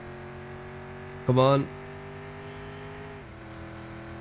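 A Chevrolet Bel Air engine revving in Car Mechanic Simulator, with a steady droning tone that dips in pitch near the end and a brief spoken voice early on.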